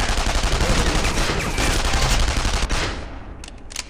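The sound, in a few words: gunfire in the video game Counter Spy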